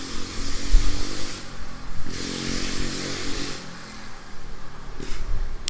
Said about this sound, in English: as soon as the mini bike goes by